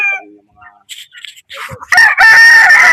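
A white bulik gamefowl rooster crows loudly and close, its call building through broken segments into a strong sustained crow at the end, with some faint clucking early on.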